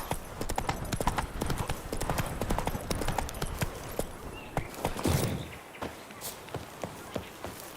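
Horse Roach's hooves clip-clop steadily on the ground in The Witcher 3, a quick rhythmic gait that slows toward the end, with game ambience underneath.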